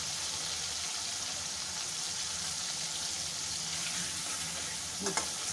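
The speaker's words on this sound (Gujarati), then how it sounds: "હવે આપણે ટામેટાં થાય ત્યાં સુધી આપણે આને મિક્સ કરતા રહીશું 1 થી 2 મિનિટ માટે।" Tomatoes and onions sauté in a pan with a steady, moderately faint sizzling hiss, and a brief clink of a stirring utensil near the end.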